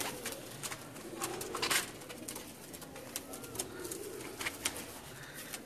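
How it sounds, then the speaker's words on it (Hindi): Pigeons coo softly indoors at home, a low murmuring over steady background hiss with faint chirpy accents, continuous for several seconds. "ये एक्चुअली कबूतर हैं"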